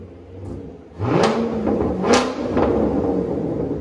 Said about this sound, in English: Now it sounds like a Corvette.